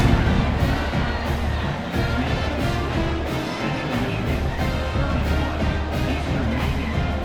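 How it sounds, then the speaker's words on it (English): A college football stadium crowd roars and buzzes continuously after a score in the fourth quarter, a dense, steady wall of cheering and chatter that stays loud throughout, with no clear single voice on top. "this crowd is buzzing after that last score"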